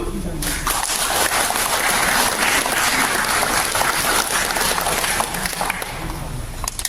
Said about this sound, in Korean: 뜨거운 박수.